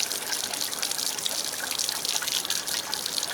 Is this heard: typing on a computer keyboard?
no